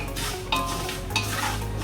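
Salt being stirred into a sizzling spice tempering for Diwali chivda, a steady close sizzle with scraping spoon strokes against the pan, no voices.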